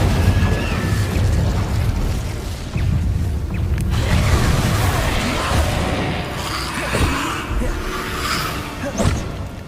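Spell blasts and fiery bursts from Hogwarts Legacy gameplay, a series of booming pops and whooshes over steady game noise, with a voice talking at times.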